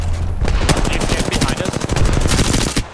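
Bursts of rapid automatic gunfire in an Apex Legends match, loud and close with overlapping shots from more than one weapon, cutting off sharply at the end.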